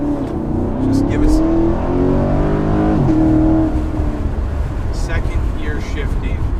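A Chevrolet Camaro SS V8 pulls hard nearby, its engine note climbing steadily before a gear shift near the middle, then building again. A voice is heard faintly over the engine.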